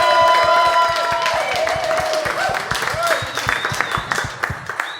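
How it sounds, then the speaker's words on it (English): Live audience in Chicago applauding and cheering for a guest, a dense burst of clapping under a talking voice and tonal music, fading out by the end. "Let's get a round of applause for Vivian,"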